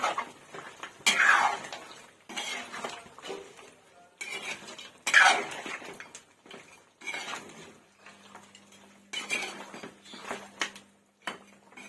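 Ginger garlic paste gets stirred into chicken in a pot for a Nellore-style chicken kurma, with repeated scraping and clanking of a spoon against metal in irregular bursts, close by, separated by quieter pauses.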